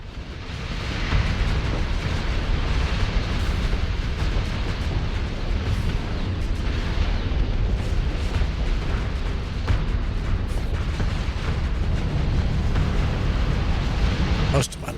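Missiles hammering a spaceship in the space combat game Starsector, a dense, continuous roar of overlapping explosions and rumbling blasts that barely lets up, with a voice talking over it.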